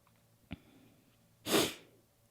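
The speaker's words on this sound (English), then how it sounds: "Pardon my sniffles." A person with a cold sniffles once, a sharp, breathy intake that is loud and close, just after a small click, with no talk.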